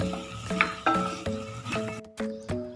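Mexican rice with a vegetable stock cube is stirred in a hot pan, a spoon scraping in regular strokes roughly every half second over a faint sizzle, close and moderately loud.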